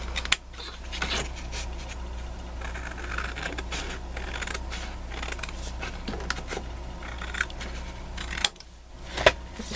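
Recycled card being cut with scissors for a handmade Christmas card, a run of close, soft snipping and paper rustling across several seconds, with a brief pause near the end.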